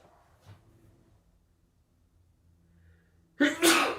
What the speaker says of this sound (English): Just sneezing up a storm this morning.